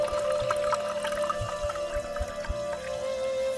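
Tassay mineral water pours steadily into a glass, a bright ringing tone sustained over soft gurgles and a few light splashes.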